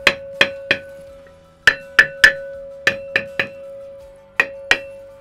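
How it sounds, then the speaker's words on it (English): A copper-faced hammer taps a classic Land Rover Series III wheel drum held in lathe jaws. It gives about a dozen sharp, ringing metallic knocks in small irregular groups, close and loud, over a steady workshop hum. "just with your copper face hammer, just make sure that's hard up against the jaws."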